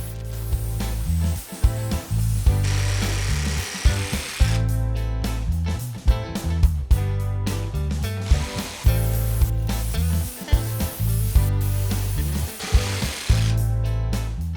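A jigsaw cuts a waney edge along a piece of wood, its motor buzzing loudly and continuously up close, with the blade chattering and the pitch dipping and surging as it works through the board.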